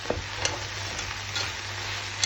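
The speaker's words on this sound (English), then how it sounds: "So I'm just going to give this a little mixy mix." A pot of vegetable chilli with broccoli and cauliflower is stirred, making a continuous close sizzling hiss with soft scrapes and occasional small knocks of the spoon, no talking.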